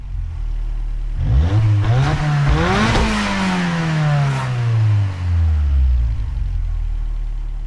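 A Ford Escort RS Cosworth engine in a video game revs up repeatedly, its pitch climbing and falling in surges before settling into a steady, loud drone, with no voices.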